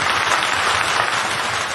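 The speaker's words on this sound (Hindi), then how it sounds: "एक बार मुझे तालियां बजाकर मन दे दीजिए" An audience at a Hindi poetry recital (kavi sammelan) claps in a dense, continuous burst, loud and even throughout the brief moment with no voices over it.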